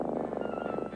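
A cat purring steadily and close by, a low continuous rumble with a soft regular pulsing rhythm and no other sounds.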